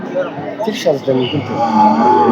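A cow at a crowded Qurbani cattle market gives a close, drawn-out moo, with people talking nearby.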